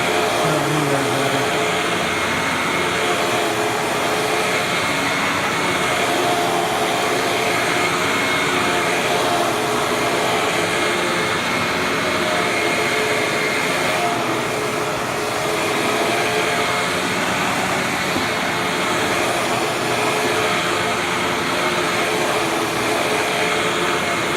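Hoover WindTunnel bagless twin-chamber vacuum cleaner running, a loud, close, continuous motor roar with a steady airy hiss that holds without pause.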